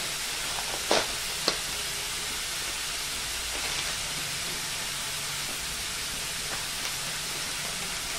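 Tomato and onion curry being stirred in a pan with pav bhaji masala, a steady soft sizzle with a couple of sharp spoon scrapes early on and faint clinks later, fairly quiet and close.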